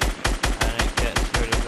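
Gold SCAR assault rifle firing in Fortnite Battle Royale, a rapid, even string of about eight close, punchy shots at a steady rhythm, with no talk.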